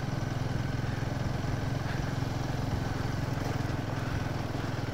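Motorcycle engines drone steadily on the mountain road from Leh to Khardung La, a continuous mid-level rumble with no clear individual passes.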